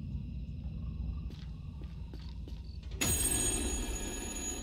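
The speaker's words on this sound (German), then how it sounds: "Hat hier ein Telefon gerade geklingelt?" A telephone rings inside the horror game Little Hope, a loud bright tonal ring bursting in near three seconds over a constant low ambient rumble, following a few faint scattered clicks and tones.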